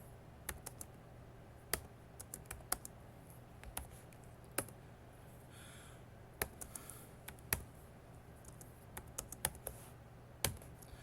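Someone types on a computer keyboard while editing a GNU Octave script, with irregular clusters of crisp key clicks and occasional louder taps against a quiet room hum.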